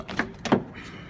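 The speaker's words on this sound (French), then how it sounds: "Donc on va ouvrir la porte." The door of a green 1964 Porsche 356C is opened, giving two short close mechanical clunks from the latch and hinge in quick succession, followed by a quiet tail.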